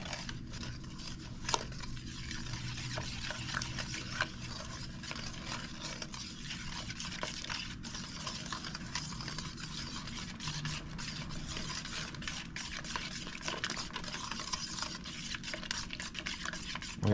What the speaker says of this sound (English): we're going to start mixing with this flat bottom wire whisk so we can get everything off the bottom